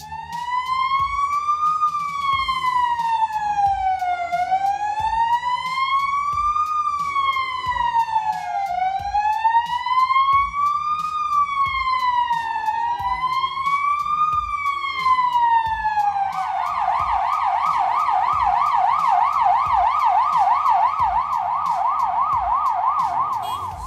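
An ambulance siren wails loudly and continuously in a Polish traffic jam, sweeping slowly up and down in a repeating cycle before switching to a fast, urgent yelp, with low traffic rumble beneath.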